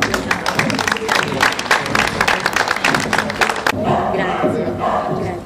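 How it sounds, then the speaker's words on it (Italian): A crowd applauds the third-place winner at a prize-giving event. Loud, dense clapping with some shouting fills most of the clip, then thins out near the end. "Un applauso, prego."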